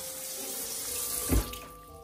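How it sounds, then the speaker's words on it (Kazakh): A water tap runs steadily with a hissing flow, with a brief louder splash or gurgle in the middle, moderately close. "өзімен өз су қосылып кетті"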